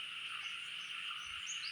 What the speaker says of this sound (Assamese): এজাক বৰষুণতে ইমান সুন্দৰকৈ ভেকুলী পৰুৱা আদি কৰি কেনেদৰে নন ষ্টপ কান্দি আছে